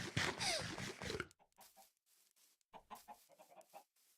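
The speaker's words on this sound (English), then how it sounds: "Tell me when you can hear the chickens." Minecraft chickens clucking in a quick, loud burst of overlapping calls, then quieter scattered clucks and short game sounds with gaps of near silence.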